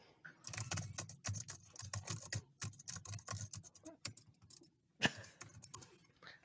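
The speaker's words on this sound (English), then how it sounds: "My keyboard sounds better than that janky one." Rapid, uneven clacking of computer keys being typed on, close and fairly loud, with a few brief pauses between bursts.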